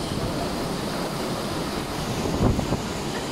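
Strong typhoon wind roars with crashing surf in a continuous loud wash of noise, swelling briefly near the end.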